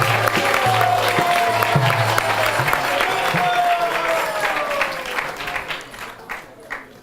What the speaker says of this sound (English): So let's hear one big round of applause for His Grace Vaisesika Prabhu.